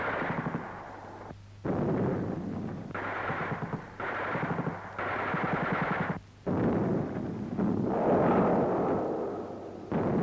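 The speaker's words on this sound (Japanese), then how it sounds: "放射砲の凄まじい水平射撃。" Rocket artillery firing a horizontal barrage during a 1958 Japan Self-Defense Forces exercise, a series of loud roaring bursts with rapid crackling, separated by brief gaps, on an old film soundtrack.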